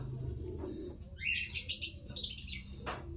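A racing pigeon arrives at its loft during a race with a burst of flapping wings and soft cooing, followed by a few faint chirps and rustles nearby.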